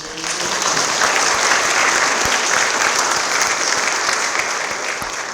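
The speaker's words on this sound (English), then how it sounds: "So a round of applause" Loud, dense applause from an audience at a World Teachers' Day event, clapping sustained evenly throughout and heard alone.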